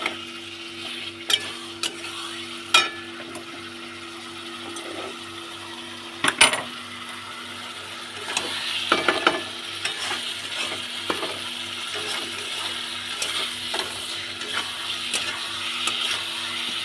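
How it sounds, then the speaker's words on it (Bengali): Potatoes stir-fried in a pan over a full gas flame for a fish-head and potato curry, with intermittent scraping and stirring clatter over a steady low sizzle, no talking. "গ্যাসটা একটু ফুল ফ্লেমে দিয়ে দেবো, দিয়ে ভালো করে কষিয়ে নেবো।"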